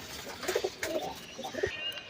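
A red-veined male pigeon coos softly in short throaty bursts, close by, under faint background noise.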